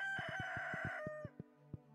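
A rooster from the video game Stardew Valley crows once, a clear game sound effect lasting about a second, followed by a few short clucks or notes.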